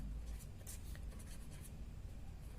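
Chalk or marker writing on a board during a class 7 maths lesson on integer multiplication, soft scratchy strokes in short bursts under a steady room hiss, close and faint, with no talk.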